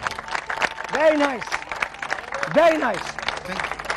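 Clapping from a crowd at a sit-in protest carries on underneath as someone speaks over it twice, the scattered applause staying steady and fairly close beneath the voice.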